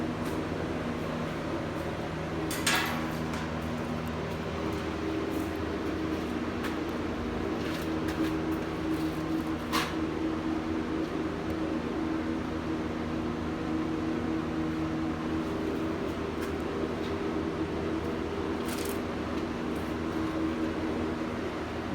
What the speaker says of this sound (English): My heater makes some noise.